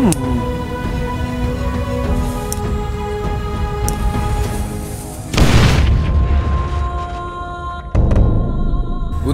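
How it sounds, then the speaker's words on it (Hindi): A small firecracker bomb goes off during festival celebrations with two sharp, loud blasts a couple of seconds apart, heard over a steady background of tonal music. "अरे यार इस छोटे से बम से डर रहे हो"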